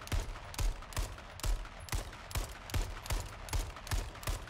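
Rapid bursts of gunfire in the H1Z1 battle royale game, a steady run of loud sharp shots about twice a second over a dense rumbling background, with no voices.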